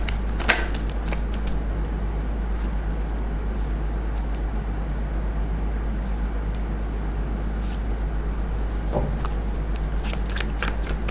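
Tarot cards shuffled continuously at close range, a steady dense riffling and flicking of the deck that runs the whole time without pause, with occasional sharper snaps.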